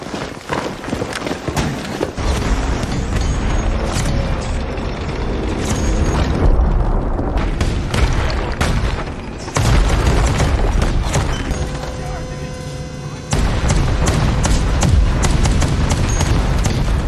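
A tank fires into a building, and heavy booms and rumbling explosions pile up into a dense, continuous roar over chaotic battle noise, with loud blasts near and far.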